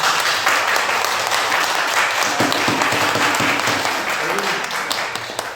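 Applause from a gathered audience at a Daegu Heungsadan regular monthly meeting, a steady dense patter of clapping filling the whole stretch at moderate loudness, with some voices mixed in.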